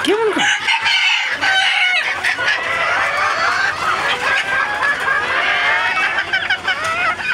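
Hens cluck and squawk continuously and close by, a busy overlapping chorus of calls that lasts throughout.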